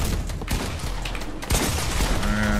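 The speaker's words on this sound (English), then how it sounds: "Look at everyone just shooting at me for what?" Dense, loud bursts of automatic gunfire from several players in a first-person shooter video game, crackling almost without pause and swelling louder midway through.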